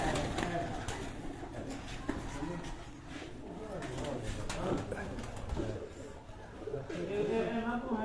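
A pigeon of a different breed, held in a man's hands, gives soft throaty coos, repeated and low, under a background of nearby voices and handling noise.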